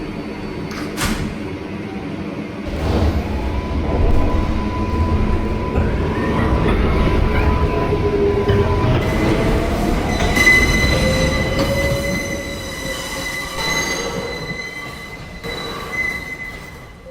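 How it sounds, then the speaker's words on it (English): A New York subway R142A 6 local train pulls out of Grand Central–42nd Street station, loud and close, with rumbling wheels and long high-pitched squeals that rise and overlap as the cars roll away. "This is a Brookyln Bridge bound 6 train."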